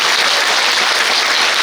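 A crowd at a Korean People Power Party members' education event in Gimcheon breaks into applause, a loud, dense and sustained clatter of many hands filling the hall without talk.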